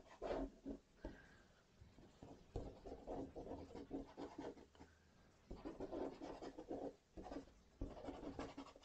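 Dry dark pastel stick scratching and rubbing across paper in close, irregular strokes, filling small gaps in a red ribbon drawing, with soft pauses between bursts of scratching.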